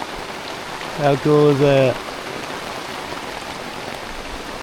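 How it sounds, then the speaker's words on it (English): Heavy rain pours steadily during a storm on a mountaintop, a constant wash of drumming drops throughout, with a person briefly speaking over it near the start. "It is pouring."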